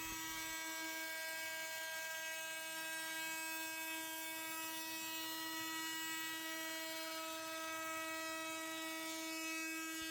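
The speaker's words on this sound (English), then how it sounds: "I'm gonna round over the bottom of the vase with a 1/2 inch, I think, round over bit with my router" A router fitted with a half-inch round-over bit shapes the bottom edge of a wooden vase, holding a steady, high-pitched electric whine that stays even and loud from start to finish with no voices.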